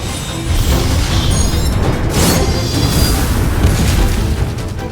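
A heavy explosion during a battle in the game Grand Three Kingdoms, a loud, sustained booming roar of blast and rumbling debris that fills the whole stretch without letting up.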